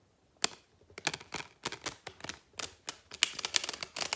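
A Rainbow Tarot card deck is shuffled by hand, producing a quick series of crisp, close riffling snaps and flicks in an uneven rhythm over a quiet background.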